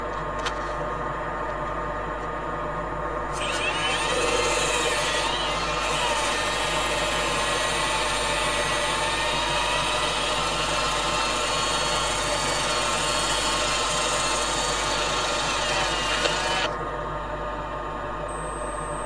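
Coarse 80-grit sandpaper works over a large rotten wooden bowl on a lathe, a continuous close rasping hiss over a steady motor hum that swells for much of the stretch, then eases back, with no talking.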